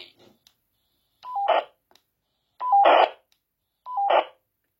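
Baofeng UV-5R handheld radio powering on: a faint crackle at the start, then three separate short electronic beep-and-burst tones spaced about 1.5 seconds apart, loud and close, with no talking.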